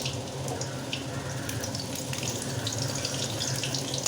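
Black cumin seeds and green chillies fry in hot oil for a small-fish curry, giving a steady, close, bubbling sizzle with crackly pops throughout and no voices.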